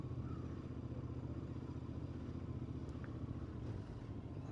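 A 2022 Royal Enfield Interceptor motorcycle rides through a small Cotswold village at Bibury. Its engine gives a steady, continuous low rumble, loud and unbroken, with no speech over it.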